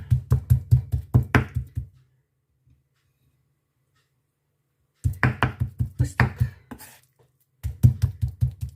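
A knife chops chicken meat on a cutting board in fast, even runs of sharp close knocks, three bursts separated by pauses of near silence.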